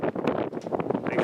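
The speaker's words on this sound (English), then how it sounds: "Even though it is a windy day, it's still a pretty nice place to be." Gusty wind buffets the microphone at an outdoor shooting range on a windy day, a close, continuous rumbling roar with uneven surges and no talking.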